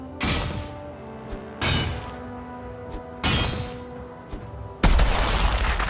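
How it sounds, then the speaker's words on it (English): Four loud explosive blasts in Valheim, set off to extract silver, each a sharp broadband burst with a crackling tail, spaced about 1.5 seconds apart, the last one heaviest and rumbling on to the end. "So that was the biggest explosion that we managed to achieve so far."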